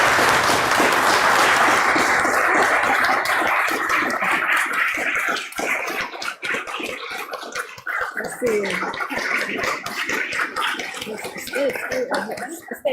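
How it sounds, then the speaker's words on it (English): Audience applause for the Dharma sisters at a gathering, a full burst of clapping that fades after a few seconds into scattered claps, murmuring and voices talking in the room. "give them a big applause"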